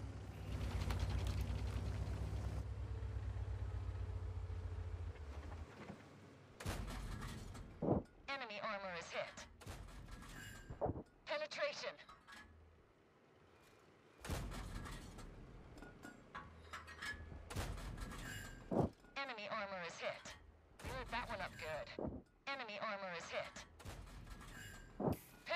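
Tank cannon shots in a tank video game, a series of sharp, heavy blasts spaced several seconds apart, each followed by a brief rumbling tail, with someone talking between them.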